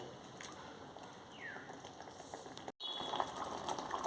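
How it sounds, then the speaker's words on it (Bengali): Egg curry gravy bubbling in a pan, a soft steady simmer with faint pops and a brief dropout partway through, close and quiet with no talking. "দেখুন বন্ধুরা কি সুন্দর ফুটছে"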